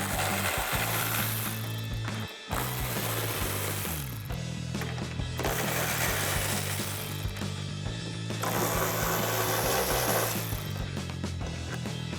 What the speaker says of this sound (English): we're gonna grab our ratchet and 13mm socket,